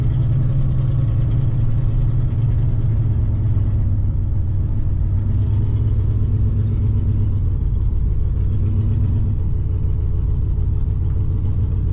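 A 1963 Pontiac Catalina engine runs steadily as the car drives, a low, even rumbling hum at moderate loudness with no talk over it.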